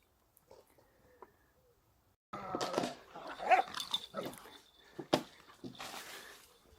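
Pet dogs bark and growl at each other in rough play, close and noisy, with bursts of yapping and snarling following a quiet start.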